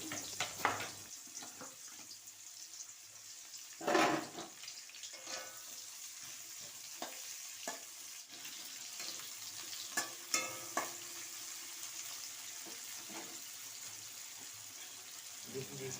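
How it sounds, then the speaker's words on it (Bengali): Onions frying in a pan, a soft continuous sizzle with occasional stirring clinks and a brief louder knock, quiet and close throughout. "এখন আমি পেঁয়াজগুলোকে ভেজে নিচ্ছি।"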